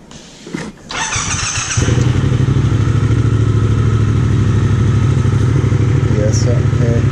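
A Triumph Speed Twin 1200 motorcycle in a building's parking lot gives a few mechanical clicks and a brief starter whir, then its engine catches. It settles into a loud, close, steady idle with a throbbing parallel-twin pulse.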